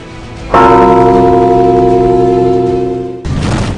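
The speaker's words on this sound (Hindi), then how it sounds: "घंटी बजाओ।" A single loud metal bell strikes once nearby and rings out with a long, sustained harmonic hum that slowly fades, then a second strike follows near the end.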